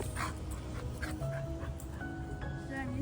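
A small, soft puppy whimpers in thin, high whines and pants close by, with quiet human voices mixed in throughout.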